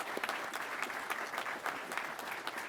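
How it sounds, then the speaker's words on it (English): Applause from an audience at a military undergraduate pilot training graduation ceremony honouring instructor pilots, moderately distant, a steady patter of many hands with scattered louder claps. "if we could just give them a big round of applause"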